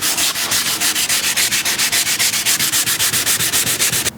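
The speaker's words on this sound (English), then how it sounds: "we'll get some soapy water on our headlights and we start sanding away" Rhythmic wet sanding of a car headlight with soapy water, close and loud, quick regular back-and-forth strokes about six per second, stopping abruptly at the end.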